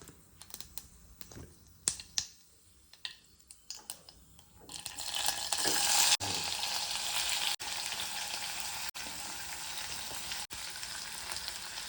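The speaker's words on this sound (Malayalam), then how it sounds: "അപ്പോൾ കടുകൊക്കെ പൊട്ടി തുടങ്ങിയിട്ടുണ്ട്" Mustard seeds crackle and pop in hot oil with a few sharp spits, then tomato and green chili hit the pan and a loud, steady sizzle of frying takes over, broken by brief gaps.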